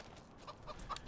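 Chickens in the Farming Simulator 25 video game cluck softly in a short burst of quick, overlapping clucks at low level with no talk over them.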